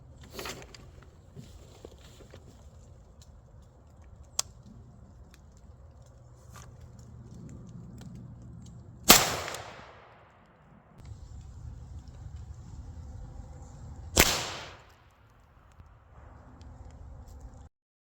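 Two sharp, loud unsuppressed rifle shots of 220-grain subsonic 300 Blackout rounds crack several seconds apart, each followed by a brief fading echo, amid quiet outdoor background noise and small clicks.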